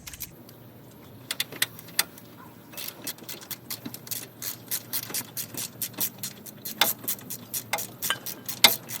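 A ratchet tightens the front wheel bearing nut on a Cutlass, heard as faint scattered clicks that build into a steady series of quick, close ratcheting ticks.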